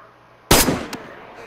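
A single loud, close gunshot cracks in DayZ, followed a moment later by a fainter second report and a fading tail.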